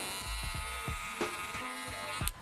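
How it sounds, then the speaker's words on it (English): A cordless Magic Clip hair clipper with its lever closed hums steadily at close range during a bald fade, a continuous electric buzz with small shifts in pitch as it moves, no talking. "still using my cordless magic clips, close my lever, making it a true 0."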